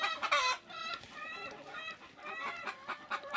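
A chicken held still on a farm clucks and squawks in a fast, agitated run of close calls.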